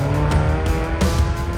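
A demolition derby car engine screaming at high revs, loud and close, with a harsh sustained roar and brief surges, outdoors at a hillbilly demolition derby and mud bog event.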